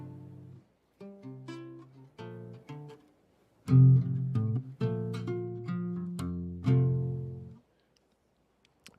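An acoustic guitar with a rubber piece on the bridge plays short, muted, plucked chords and notes in brief bursts separated by pauses, soft and close with a dampened, quickly decaying tone.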